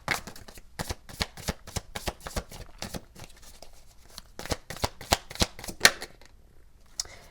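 A deck of tarot cards is shuffled close by in quick bursts of crisp riffling snaps, with short pauses between runs.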